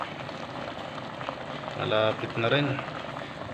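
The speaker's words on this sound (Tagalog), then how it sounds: "Ayun, nakakulo na, nakakulo." Sinampalukang galunggong, a tamarind broth with fish, bubbles at a steady boil in a cooking pot, its fizzing and popping swelling midway beneath a speaking voice.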